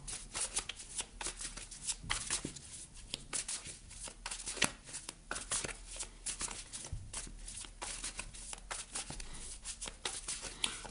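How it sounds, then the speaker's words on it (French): Tarot cards shuffled steadily for a reading, a continuous soft riffling and slapping of the deck close up, with quiet background hiss and no speech. "On va aller voir ce qui se trame ici avec un petit tirage express pour connaître vos énergies."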